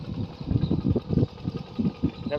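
A Yanmar tractor engine runs steadily at close range, its low mechanical chugging pulsing in a fairly even rhythm with no talk over it.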